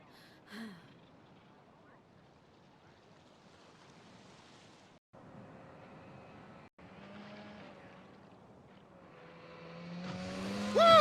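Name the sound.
jet ski on the water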